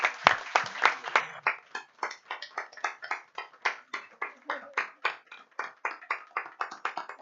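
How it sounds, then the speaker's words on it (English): A small audience at a county school board meeting claps in a distinct, moderately loud run of separate handclaps that settles into a steady rhythm, with no voices over it. "Let's give her a round of applause."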